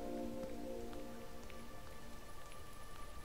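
Soft rain patters in the video game Gris, a faint, even wash of drops with scattered ticks and a gentle tonal hum underneath, steady throughout and heard alone.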